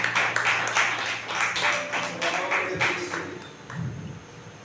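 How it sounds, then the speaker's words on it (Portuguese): A small church congregation at a family service claps in uneven bursts, fairly quiet and roomy, the clapping rising and falling over a few seconds. "as palmas para o Senhor Jesus"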